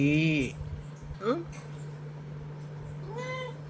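A pregnant cat close to giving birth meows and cries loudly in drawn-out wails near the start and again near the end, with a steady low hum underneath and a person talking softly between the cries.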